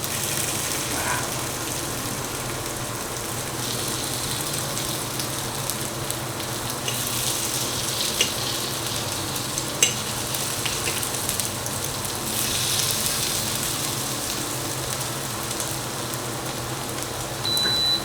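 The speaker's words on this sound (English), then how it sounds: "They're nicely fried on one side." Zucchini pancakes fry in a hot pan, making a continuous close sizzle and crackle with a steady hiss throughout.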